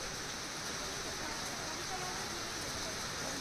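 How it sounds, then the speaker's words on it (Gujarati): Light, steady unseasonal summer rain in Gujarat makes a soft, even hiss of falling drops, faint and unbroken for the whole stretch. "ધીમી ધારે સતત ત્રીજા દિવસે વરસાદ વરસ્યો"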